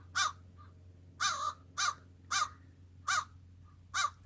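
A crow caws six times in an evenly spaced series of harsh, nasal calls, fairly close and clear over a faint steady low hum.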